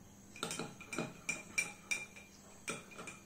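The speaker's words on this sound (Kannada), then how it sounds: "ಕ್ಲೀನ್ ಆಗಿರೋ ಸ್ಪೂನ್ ನ ಸಹಾಯದಿಂದ ಇದನ್ನ ಮಿಕ್ಸ್ ಮಾಡಿದೀವಿ." A spoon mixes aloe vera gel for homemade hand sanitizer, giving a series of light metallic clinks and taps against a container, close and quiet, spaced irregularly.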